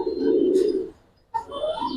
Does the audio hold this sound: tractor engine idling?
no